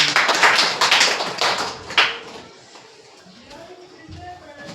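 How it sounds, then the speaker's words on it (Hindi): A classroom of schoolchildren claps together in a science lesson, with a dense burst of loud, near applause for about two seconds that fades into softer murmuring and faint voices. "बहुत बढ़िया, जोरदार ताली बजाओ।"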